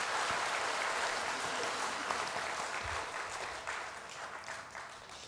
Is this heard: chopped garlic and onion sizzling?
no